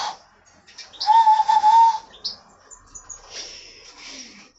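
A person whistling through cupped palms pressed together, giving a clear, steady hollow tone of about a second with slight wavering pitch, followed by softer breathy attempts and faint rustling.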